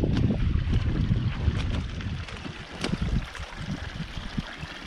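Abundant running water along a mountain hiking trail on the E2/GR5 route in the Vosges near the Col du Ballon, near snowfields: a steady, broad rushing flow mixed with gusty wind noise on the microphone, loud and continuous throughout.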